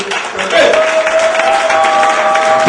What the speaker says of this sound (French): Il faut vous lever pour l'applaudir.